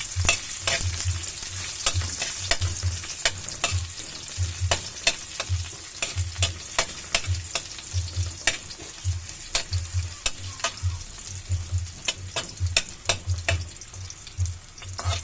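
Garlic and onion fry in a hot pan for pansit with pork chicharon, a steady loud sizzle broken by repeated scraping stirs and clacks of a utensil against the pan, close up and without talk.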